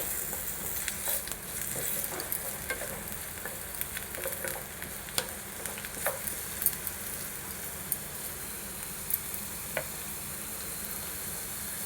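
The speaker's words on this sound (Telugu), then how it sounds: "ఇదిగోండి, ఉల్లిపాయలు వేగుతున్నాయండి." Chopped onions fry in a pan for a paneer and pea curry, giving a steady sizzle broken by irregular scraping and clinking as a utensil stirs them, with no talk.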